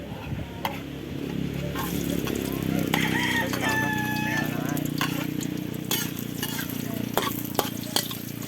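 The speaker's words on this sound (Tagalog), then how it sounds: "magigisa na po tayo ng bawang, sibuyas at luya. Pero unahin po natin ang luya" Ginger sautéing in a hot pan for chicken tinola, a steady oil sizzle with occasional stirring clatter, joined by a rooster crowing nearby in the background.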